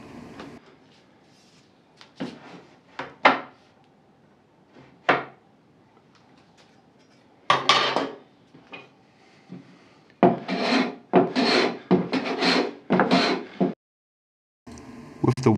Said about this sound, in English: I'm using my Japanese plane here because sometimes I just like to use it and it's convenient for this type of task.